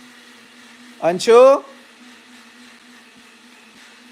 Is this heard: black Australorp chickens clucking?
no